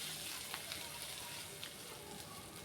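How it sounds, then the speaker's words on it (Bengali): Whole cinnamon, cardamom and chopped ginger fry in leftover potato-frying oil, a faint, continuous crackling sizzle with small pops, heard close and steady throughout. "আলু ভাজার তেলের মধ্যে ফোড়ন দিয়ে দিচ্ছি আস্ত দারচিনি আর এলাচ, আর সামান্য আদা কুচি দিয়ে দিয়েছি।"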